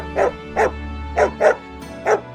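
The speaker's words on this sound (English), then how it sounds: "the dog barked to snatch that other bone" A dog barks five times in a steady rhythm, each bark short and clear against a faint hum.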